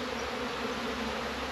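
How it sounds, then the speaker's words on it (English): Honeybees flying in and out of a hive entrance, a close steady buzzing hum of many wings, brief and continuous. "Now we see there are lots of bees coming in and out"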